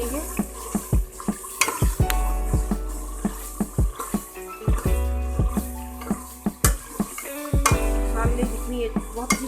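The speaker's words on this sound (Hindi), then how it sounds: "ये देखिए थोड़ा सा भूनेंगे।" Spices for chilli dal mash sautéing in a pan, a loud steady frying hiss broken by repeated sharp clinks and scrapes of a spoon stirring against metal, with no talking.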